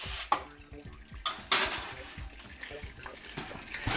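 A baking sheet of biscuits slides into an oven preheated to 450, with a few sharp metallic clanks and scrapes of the pan against the racks and a rattling oven door, close and irregular, with speech nearby.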